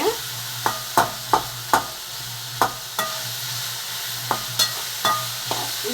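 Onions sautéing with salt in a pan hiss steadily while a spoon stirs them, its regular clicks and taps striking the pan close by.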